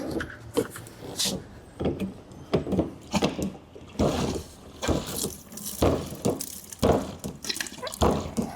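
Heavy liquid chemical pours and splashes onto a scale during car care product mixing, a close, loud run of gurgling, dripping bursts with no talk.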